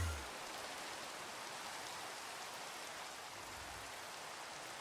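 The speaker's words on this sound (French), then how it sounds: "Oh, il pleut en plus." Steady rain falling at night in a video game, a dense even hiss of drops that runs continuously and alone, with no voices.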